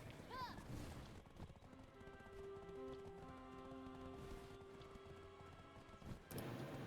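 Horse hooves clatter near the start and end of a Black Desert Online node war in Balenos, with faint tonal game sounds lingering between.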